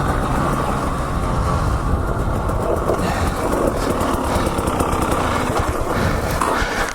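Motorcycle ridden near Scottsdale, Arizona among saguaro cactus, a steady loud engine drone with wind rumble held throughout, no voices over it.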